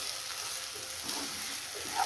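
Ground Marvin Kai chutney frying in a pan, a steady soft sizzle running evenly throughout with no voices.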